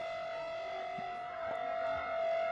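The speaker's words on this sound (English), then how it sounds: "looks like the sirens are being warmed up" A civil defense siren under test in central Delhi holds a steady, sustained wail, moderately loud and distant, with faint background noise beneath it.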